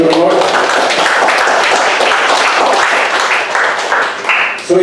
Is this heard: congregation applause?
yes